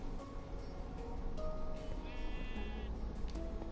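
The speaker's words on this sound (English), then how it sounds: "There's the sheep." Sheep bleating in the Minecraft video game, a few short wavering bleats at moderate volume over a steady background of game ambience.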